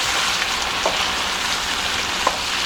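Shrimp scampi cooking in butter in a pan produces a dense, continuous frying hiss with a few faint pops, close and loud, with no voices.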